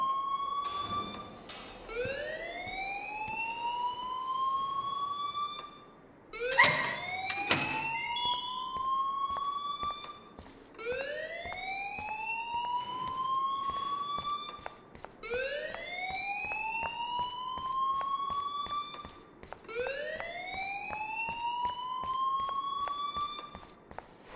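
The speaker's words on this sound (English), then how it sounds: "please turn off that alarm since that's your job." A fire alarm in a school building within a video game sounds repeatedly, rising whooping sweeps in a steady cycle roughly every four seconds, loud and close, with a brief clatter early on and no talking.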